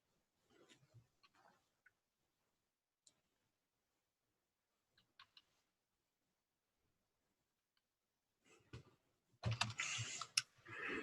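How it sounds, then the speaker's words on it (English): Sparse keystrokes on a computer keyboard, quiet scattered clicks in a near-silent room, followed by a louder burst of noise at the end. "I'm typing out to the listeners right now on the show"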